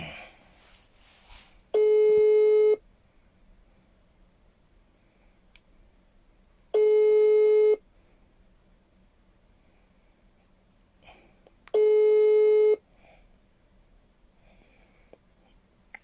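Ringback tones from a WhatsApp call being placed, three evenly spaced, clear, steady one-second beeps separated by quiet pauses of several seconds, with no talking.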